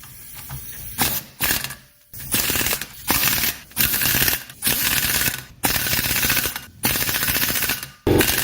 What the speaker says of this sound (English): And hit them with the impact now.